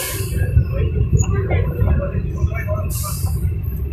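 The Santragachi–Haldia local train runs with a deep, continuous rumble and rattle from inside the carriage, with bursts of hissing noise and faint murmuring voices underneath.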